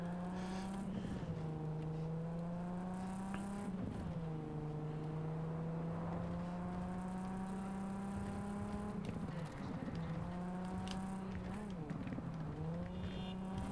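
Engine drone of cars in a driving game on the Nintendo Switch 2, steering into oncoming traffic, holds a steady pitched hum with brief swells and shifts as vehicles go by, with no talking.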